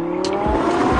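A luxury car is driven off in a film scene, giving a short burst of engine roar and tire noise that swells and pulls away within about a second, with no talking.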